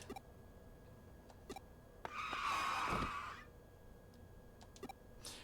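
A truck skids with a screeching tire squeal lasting about a second in the Digimon Cyber Sleuth video game, loud against a quiet backdrop dotted with faint clicks.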